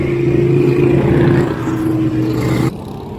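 Custom-built cars run a parade lap around a park, a close, loud, steady engine drone that drops abruptly near the end.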